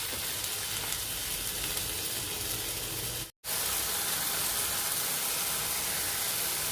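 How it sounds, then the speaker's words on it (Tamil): Tomatoes sauté in a pan over a low flame for tomato chutney, giving a steady, close frying sizzle and hiss that runs unbroken apart from one brief dropout. "இப்போ இதோடவே நான் தக்காளி ஆட் பண்ணிக்கிறேன் கொஞ்சம் லோ ஃப்ளேம்லேயே வச்சு நான் தக்காளி நல்லா மசியணும் அந்த அளவுக்கு நாங்கள் வதக்கிக்கலாம்"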